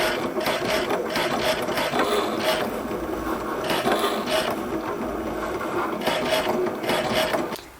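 Cricut Maker cutting machine cutting through acrylic sheet taped at the edges, a steady close mechanical whirring and ratcheting with rhythmic pulses of carriage movement, running continuously without talk.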